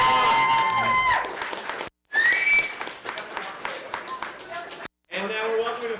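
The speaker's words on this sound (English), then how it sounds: "one more applause for Kevin and Shawn" A live podcast audience in Canmore applauds and cheers with shrill whistles mixed in, loud and sustained, cut by two brief moments of silence.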